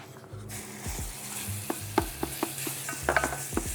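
Coriander, cinnamon, garlic and black pepper frying in hot oil for an orange-glazed ribs recipe, with a steady low sizzle broken by a run of sharp spoon scrapes and clicks against the pan.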